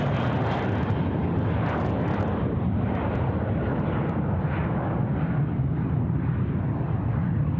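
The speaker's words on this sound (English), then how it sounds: "So a wonderful night showing of aircraft." At Sydney Airport at night, aircraft engines produce a continuous, loud, broad jet roar that holds steady throughout, with no one speaking.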